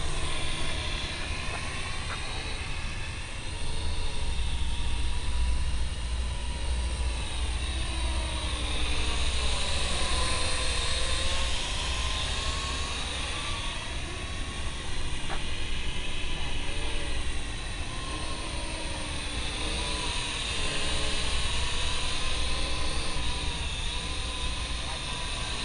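An AR Drone quadcopter hovers and flies close by, its small rotors giving a steady high-pitched buzzing whine that rises and dips in pitch as it moves and comes down to land, with no talk over it.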